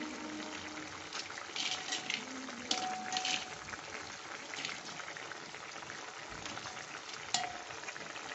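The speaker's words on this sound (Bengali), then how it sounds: "আমি এবার বড়াগুলো দিয়ে দিচ্ছি।" Fritters (bora) dropped into boiling liquid in a pan for a light, easily digestible dish; steady bubbling and simmering with soft plops and splashes, moderately quiet, no voices.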